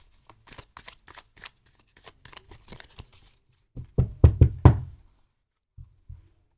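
Close, crisp shuffling of a WildWood Tarot deck: scattered light flicks, then a louder run of thumping riffles, followed by a couple of soft taps.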